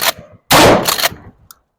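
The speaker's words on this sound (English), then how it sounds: "Shoot two, load two." A shotgun fired at a target on a range: a loud, close, broad blast with a tail, preceded by a shorter burst, then a small metallic clink, with no talk.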